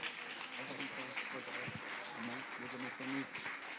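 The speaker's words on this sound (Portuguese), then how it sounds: "Forte aplauso para o Senhor." A church congregation applauds in praise at a worship service, a steady wash of clapping with voices mixed in, moderately loud and continuous for a few seconds.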